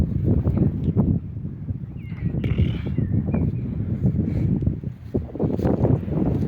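Gusty wind buffets the microphone with low rumbling bursts during a horse drive to a mountain pasture, along with faint animal sounds and a brief high squeal.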